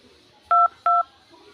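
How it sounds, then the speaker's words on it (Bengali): Two short, clean phone keypad tones sound one after the other as a hidden-app code is keyed in on a mobile dial pad, with quiet background between them. "আমরা যে কোডটা এন্টার করেছি সেই কোডটা আমরা এখানে আবারও পুনরায় এন্টার করব। হ্যাশ 2255।"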